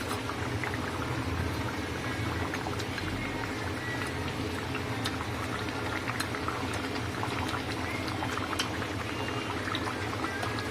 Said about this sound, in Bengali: তো মাছ দেওয়ার পরে এটা ফুটে গেছে